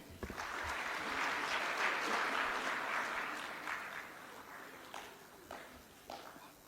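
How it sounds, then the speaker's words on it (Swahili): An audience applauds at a public dividend-handover ceremony, many hands clapping in a dense, distant wash that swells and then thins out into a few scattered claps toward the end. "Ndio hao, makofi mengi."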